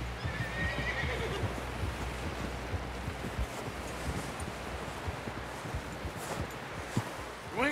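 A horse whinnies in the Red Dead Redemption 2 video game, with a neigh near the start and another later, over steady hoofbeats and a broad wind-like wash.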